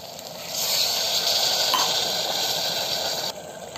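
A small glass of water poured into a pressure cooker of vegetable biryani with spices, a close, steady gushing splash lasting under three seconds, with no talk.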